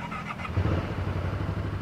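A 1200 cc V-twin Aprilia Caponord motorcycle with ABS and cruise control idles nearby, giving a steady low, lumpy throb with no talking.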